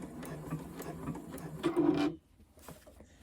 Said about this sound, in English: I'm going to finish off with a lock stitch